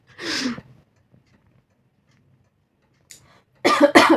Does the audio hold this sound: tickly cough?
yes